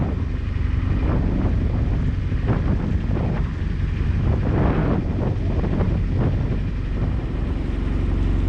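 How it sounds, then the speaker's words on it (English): Strong wind blows across open countryside beside the River Thames, a constant loud buffeting roar with gusty swells, heard alone with no talk. "It is getting windier as the day goes on."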